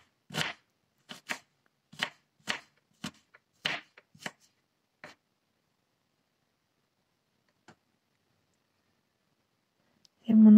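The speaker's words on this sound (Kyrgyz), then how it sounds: "Мындай кылып мантууга туурагандай майда туурап алабыз." A knife chops food finely on a board in a quick run of about a dozen sharp taps over the first five seconds, then mostly quiet with a couple of faint ticks and a loud burst at the very end.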